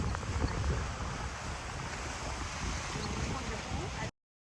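Sea waves and wind at the southern tip of Gujarat beside Diu Fort, a steady broadband wash of surf with gusty wind buffeting the microphone, continuous and fairly close, with no voices.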